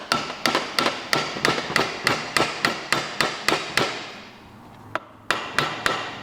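Hammer tapping on a locked-up Vespa GTS motor during disassembly, a steady run of sharp, evenly spaced metallic taps about three per second, then a brief pause and a few more strikes, close and clear with no talk.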